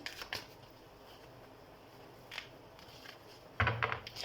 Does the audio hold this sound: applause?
no